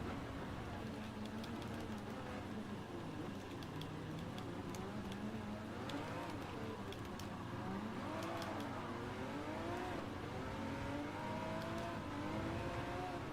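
A Ferrari Testarossa engine drones through Gran Turismo 7 in a steady, fairly quiet hum with shifting revs, and someone talks over it.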